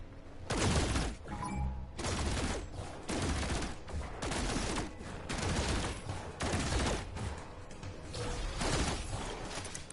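Rapid bursts of weapon fire from the space exploration game No Man's Sky, a loud, dense barrage of repeated shots in quick rhythmic volleys running continuously, with no voices over it.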